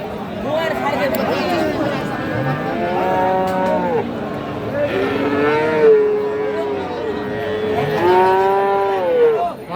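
Several cows moo loudly, long drawn-out calls one after another, over a busy crowd chattering in the background at a cattle market selling Friesian and crossbred bull calves.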